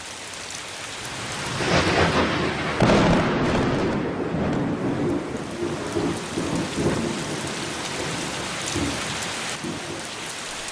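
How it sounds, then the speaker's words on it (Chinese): Sudden heavy rain pours down in a steady, loud roar beside the Lancang (Mekong) River in a Tibetan village, with deep thunder rumbling through and one sharper crack near the start. "一场突如其来的大雨打乱了计划"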